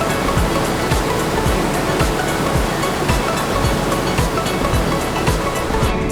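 A waterfall in the Turgen gorge in Kazakhstan, a loud, unbroken roar of crashing water that fills the scene from start to finish, with no voices.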